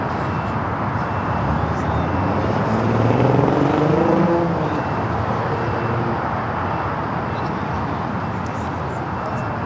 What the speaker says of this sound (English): Flight 620 coming from Rome, A330neo.